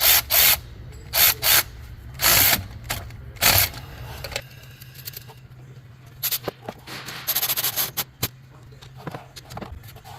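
Ratchet wrench with a 13 mm socket turning alternator bolts on a 2008–2012 Dodge 3.7L engine, in loud bursts of rapid clicking separated by pauses, then lighter irregular ticks and clatter of tools, close up with no talk.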